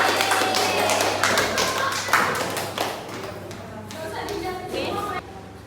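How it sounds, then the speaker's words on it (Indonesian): Scattered applause from a classroom of students after a group presentation on algorithmic thinking, uneven claps in an indoor room lasting several seconds with a few louder taps, tapering near the end amid faint murmuring. "tepuk tangan untuk semuanya"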